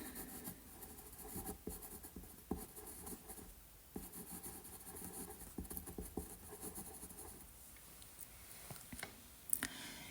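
A pen writing names on paper, a close continuous scratchy scribble with small taps and pauses, quiet and heard alone.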